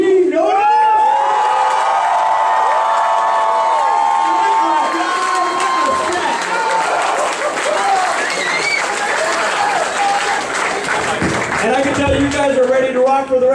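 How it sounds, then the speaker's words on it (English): A lively convention crowd at an MLP-MSP fan event cheers, claps and whoops loudly and continuously, with shouts and voices mixed into a dense, sustained roar throughout. "can we hear it one more time for Dean Norris?"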